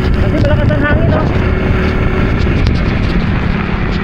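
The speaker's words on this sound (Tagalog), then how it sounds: "Kasi malakas ang hangin, no?" Strong typhoon wind roars loudly and continuously against the microphone, with a heavy low rumble on a road during the storm, and a voice briefly audible under the noise.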